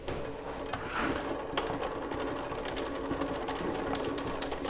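A sausage stuffing machine rapidly cranks out linked turkey sausages, giving a steady, fast mechanical whir and clatter that runs continuously at close range with no voices.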